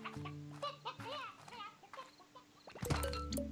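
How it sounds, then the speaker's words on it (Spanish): Chickens in the video game Slime Rancher cluck softly several times in quick, warbling calls, followed by a louder burst of clucking and rustling near the end. "Y acá va a aparecer demasiadas gallinas."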